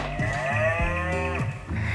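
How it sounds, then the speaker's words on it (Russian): A toy cow's moo plays loudly and clearly, a drawn-out lowing call with a slightly electronic, toy-like tone, no voices present. "Он очень любит звук коровки."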